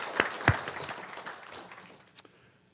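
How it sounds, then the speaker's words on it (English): A village board meeting audience applauds Mary Jo, a small group clapping briefly with a couple of sharp close claps at first, then thinning out and fading within a few seconds. "Give Mary Jo a round of applause."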